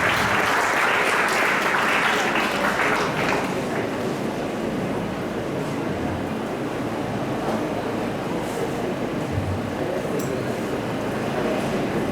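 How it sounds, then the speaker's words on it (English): Conference attendees give a round of applause for a dean from the College of Architecture and Fine Arts at a Japanese-Philippine urban redevelopment conference for Tacloban City. The dense, steady clapping fills the room, strongest at first, then easing slightly. "A round of applause to Dean Joseph Michael Espina."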